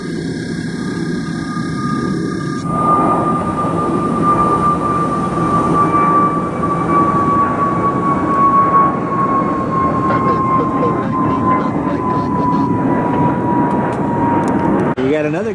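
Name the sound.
Gulfstream jet landing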